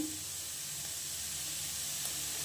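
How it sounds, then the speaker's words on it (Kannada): A weight-loss oats breakfast fries in a pan, giving a faint continuous sizzling hiss with a low steady hum beneath it, close and even, with no voices. "ಇದು ಚೆನ್ನಾಗಿ ಫ್ರೈ ಆಗಲಿ ತುಂಬಾ ಚೆನ್ನಾಗಿರುತ್ತೆ"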